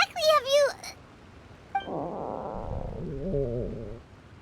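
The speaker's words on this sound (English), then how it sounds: "That would be my stomach growling." Hunger stomach growling in the Genshin Impact game, a low, drawn-out rumbling gurgle lasting a couple of seconds, preceded by a brief character voice and a small click, fairly close and moderately loud.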